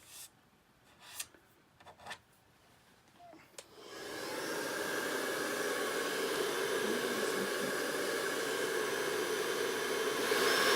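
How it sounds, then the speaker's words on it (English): After a few soft taps and rustles, a hair dryer switches on and blows loudly and steadily at close range while drying a craft piece. "Now let me hit it with a dryer."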